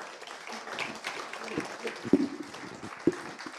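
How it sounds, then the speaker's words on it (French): Audience applause welcoming three speakers back on stage at a morning conference, a soft, fairly distant patter of clapping with a few sharper, louder claps standing out near the end. "On les applaudit."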